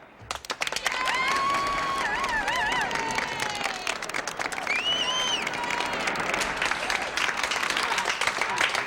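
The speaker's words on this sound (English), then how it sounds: "Oh, listen to that crowd." A crowd applauds and cheers after a political-style speech, a sustained wash of clapping with whoops and shouts rising over it, while soap-opera background music plays along throughout.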